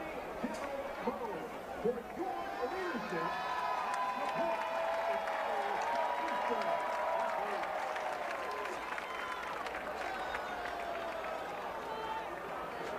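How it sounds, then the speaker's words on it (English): Football stadium crowd at a college game between Nicholls and SE Louisiana cheering in a broad, sustained roar with scattered whistles and clapping, heard from a distance at moderate volume. "Crowd is cheering because there was a little mishap with a dog on the field."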